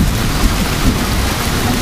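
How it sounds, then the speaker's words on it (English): Wind and heavy rain from a supercell storm over St. Louis, Missouri, pour down as a dense, loud, continuous roar of rainfall and gusts, close by and with no voices. "Comes the wind and rain."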